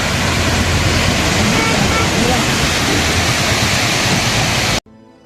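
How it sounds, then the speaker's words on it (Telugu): A waterfall roars with a loud, dense, continuous rush of falling water, cutting off abruptly near the end. "ఒకసారి వాటర్ సౌండ్ వినండి మావా"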